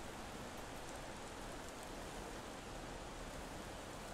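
Steady rain in a cutscene of the video game Zarvot, a soft, even broadband hiss that holds constant and fairly quiet throughout, with no voices over it.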